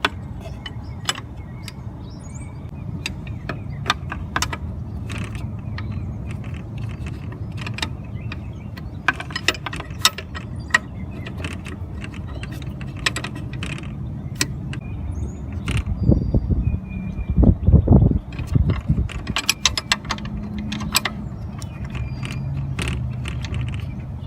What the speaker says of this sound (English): I've got my wrench on the bolt there, so I'm just going to tighten that up.